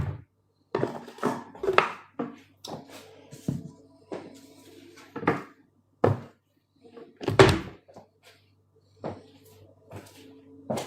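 Cupboard doors in a home are opened and shut again and again, giving a string of separate wooden knocks and bangs with short quiet gaps between them, fairly close by.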